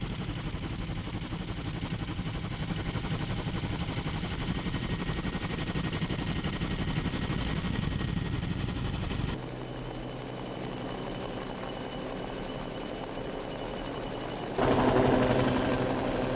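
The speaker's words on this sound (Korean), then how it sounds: "제작진은 헬기를 동원해 동면지를 중심으로 반경 2km 이내를 샅샅이 찾아보기로" A helicopter used in an aerial search over a reservoir area hums with a steady rotor and engine drone, loud and continuous, with the sound shifting abruptly partway through.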